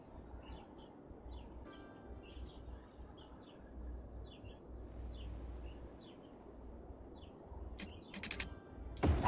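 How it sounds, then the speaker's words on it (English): Birds chirping outdoors: scattered, faint, high chirps repeat throughout over a steady low rumble, with a few sharper calls near the end and no talking. "you can definitely hear the birds are chirping out there."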